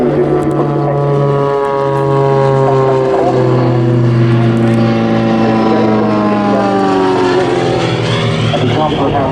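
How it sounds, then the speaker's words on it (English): Aerobatic aircraft at Southport Airshow, its engine droning loudly and changing pitch as it climbs, while a voice commentates over it. "climb, and then just letting the engine off"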